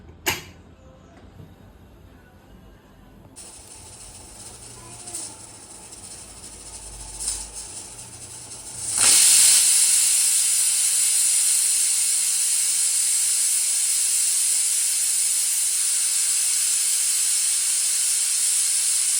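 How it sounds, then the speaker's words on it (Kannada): A pressure cooker full of egg biryani bursts into a loud, sustained steam whistle and hiss about halfway through, after a quieter stretch of faint creaks and kitchen clatter, and the hiss holds steady to the end. "ಕ್ಲೋಸ್ ಮಾಡಿ 4 ವಿಸಿಲ್ ಹೊಡಿಸಿ."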